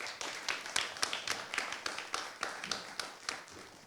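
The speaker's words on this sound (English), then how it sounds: "Round of applause for our captains." An audience applauds team captains at a talk, with dense, steady clapping from many hands at moderate distance and a few murmurs mixed in.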